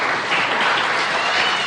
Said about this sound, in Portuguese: E se fosse você, dava uma salva de palmas.